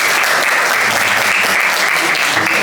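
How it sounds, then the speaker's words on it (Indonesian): Steady, dense applause from an audience at an Indonesian event, loud and unbroken throughout with no talking over it. "Tepuk tangan."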